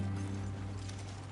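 Horse hooves clip-clop briefly in a PS4 adventure game, a soft quick patter over a steady low hum.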